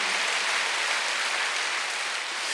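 A church congregation at a Wednesday worship service applauds in a dense, steady wash of clapping that holds evenly from start to finish.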